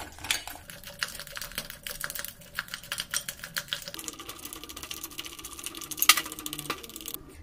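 Homemade butter is beaten by hand in a bowl, producing rapid, irregular clicking and tapping strokes against the container, fairly quiet and close, with soft wet squelches between them.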